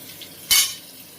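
Potatoes dropped into a hot pan give a quick, close sizzle burst that flares and then fades into a soft frying hiss, with no one talking.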